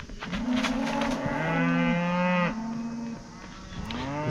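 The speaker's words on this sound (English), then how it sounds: "looks like all the cows have escaped" Several escaped cattle moo loudly and close by at a dog-friendly lakeside campsite at Lake Hāwea, Otago, with long drawn-out calls overlapping one after another and no talk.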